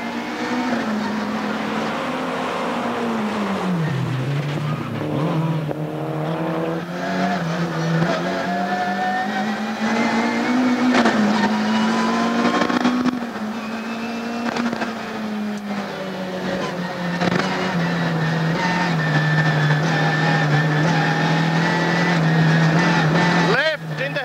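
Rally cars at the 1995 London International Rally roar into a hairpin right, engines revving and dipping in a loud, continuous drone as one car chases another, with a commentator talking over the noise.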